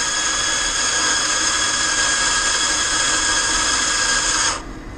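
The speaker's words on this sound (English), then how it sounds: "So we're going to go back to the coffee bean grinder and press D. It's going to grind." An Azkoyen Zensia coffee machine's bean grinder grinds coffee beans with a loud, steady, close whir that holds for several seconds, then cuts off abruptly near the end.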